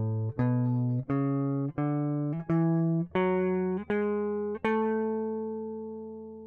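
A guitar plays a seven-note major scale, each note picked separately and ringing into the next at a steady, moderate pace. It is clear and close, with no voices.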